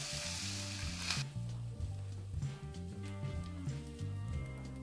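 Ground hamburger and a cup of onions frying together in a pan give a steady, close sizzle with light crackling throughout, while low music plays underneath.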